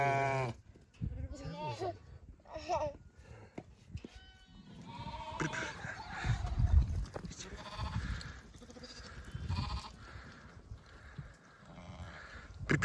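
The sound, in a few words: sheep and lambs bleating on a farm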